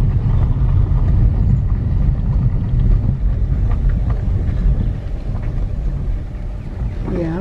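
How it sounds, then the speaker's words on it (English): Vehicle riding along an unpaved dirt road in rural Georgia, a loud continuous low rumble with road and wind noise throughout, easing slightly near the end. "I know it's getting loud, but that's because we're not riding on paved roads"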